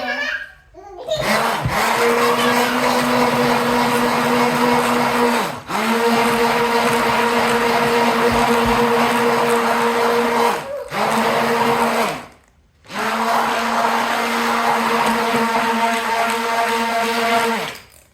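An electric blender whirs through powders for an exfoliating, brightening soap in three long loud bursts separated by brief pauses, its motor pitch steady and droning.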